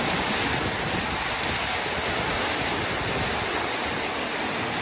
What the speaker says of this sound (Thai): ฝนสาดมาแล้ว